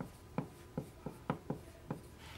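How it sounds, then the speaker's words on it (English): Chalk or marker strokes on a board during a lecture on vectors: about seven short, distinct scratching taps in an irregular writing rhythm, close and fairly quiet, with no talking. "Okay, maybe we should write that."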